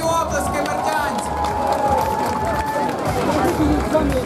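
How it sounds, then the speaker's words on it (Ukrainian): A festival crowd in Berdiansk applauds and cheers after a military band's performance at an outdoor music event, with continuous clapping, shouts and chatter blending with a voice carrying over the noise. "Ваші оплески, бердянці!"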